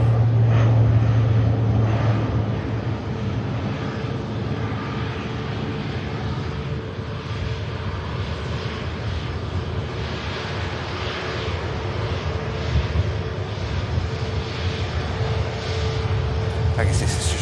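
A propeller airliner climbs steeply out of Manchester Airport, its engine drone a steady, loud roar that holds for the whole stretch with no break.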